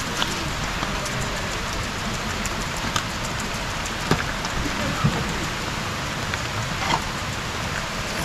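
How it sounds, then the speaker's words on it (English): Steady rain pours down outdoors at a riverside cookout, a dense continuous hiss with scattered sharper drops and taps, close and even throughout. "It's rain."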